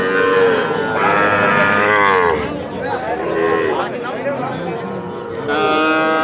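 A Nepali Gir cross heifer moos loudly and close, several drawn-out calls in a row, with a person talking over the gaps at a cattle market.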